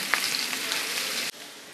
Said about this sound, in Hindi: लहसुन को भी हमने सौते कर लेना है